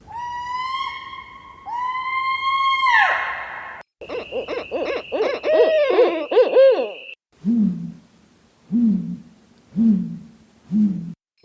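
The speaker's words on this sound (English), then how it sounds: "Fignet, play 3 owl sounds." A run of owl-like hooting sound effects, loud and isolated, starting with long drawn calls, then warbling trills, then four evenly spaced low hoots at a steady rhythm.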